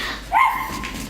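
A small dog gives a single short yipping bark during a stage production of The Wizard of Oz, heard clearly with a faint whimpering tail and no talk over it.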